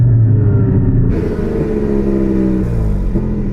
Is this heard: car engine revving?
yes